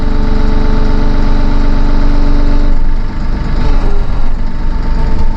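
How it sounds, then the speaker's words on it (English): Massey Ferguson 1M.40 compact tractor idling loud and close with a steady low engine drone, hydraulic note shifting partway through as the loader raises at idle speed. "We'll drop the loader. Idle speed loader raise."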